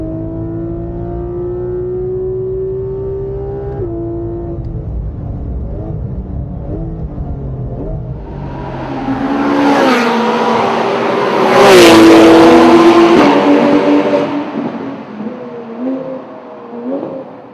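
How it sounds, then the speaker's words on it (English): A Porsche lapping a race track under heavy braking and onto the pit exit, its engine droning steadily, then revving hard and loud as it accelerates, with shifting pitch and a brief tire squeal, no talk. "The Porsche front end under heavy braking."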